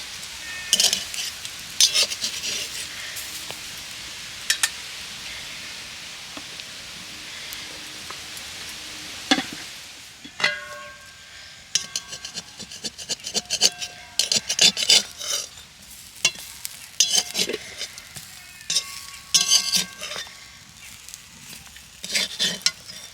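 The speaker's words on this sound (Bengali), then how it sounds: "এরকম খেলানো করা হলে কিন্তু বেশ অনেকগুলো বেগুন একসাথে ভাজা যাবে" Eggplant slices fry in a pan without oil, giving a steady hissing sizzle that later breaks into busy scraping and clattering as the pieces are stirred and turned.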